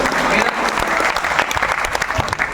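Loud, dense applause from the audience at a mushaira and kavi sammelan in Lucknow, a close, sustained wash of clapping with voices faintly mixed in.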